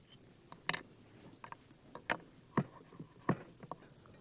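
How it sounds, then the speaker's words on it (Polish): A heavy cleaver chops roasted bison meat on a board, with irregular, dull thuds and knocks spaced out over a few seconds, fairly quiet above a low background hiss. "Najlepiej je siekać przy pomocy takiego właśnie brutalnego tasaczka"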